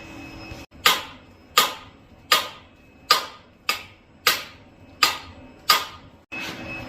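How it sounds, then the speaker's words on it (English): Eight sharp metallic hammer strikes on a freeze plug of a neglected Ford 300 engine at a steady, unhurried pace, each ringing briefly before the next, over a faint background hum. "just hammering on the freeze plug back here, hoping that I can just push her right on out"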